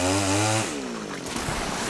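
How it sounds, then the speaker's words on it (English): A chainsaw engine drones loudly then drops in pitch as it bogs down, leaving a rougher, quieter sputter. "Chainsaw action."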